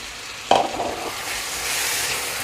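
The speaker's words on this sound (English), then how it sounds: "Now at this stage I'm going to add my chickpeas in" Chickpeas drop into a pan of chickpea curry with oil separating at the edges, setting off a sudden sizzle. A steady frying hiss and a little stirring follow.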